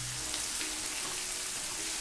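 Chilies frying in a pan for Southern-style mustard greens, a steady soft hiss of hot oil, close and continuous with no talk.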